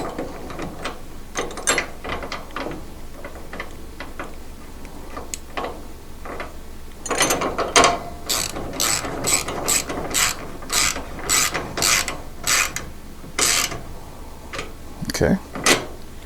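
Ratchet with a 17mm socket snugging a bolt on a Honda Pioneer 1000, giving sharp, close pawl clicks that start sparse and then come in quick, regular bursts of cranking strokes.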